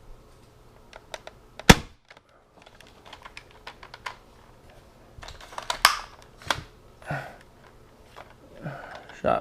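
A modified Nerf Strong Arm revolver blaster fires several sharp, close snaps at irregular intervals, with small mechanical clicks from handling and cycling in between.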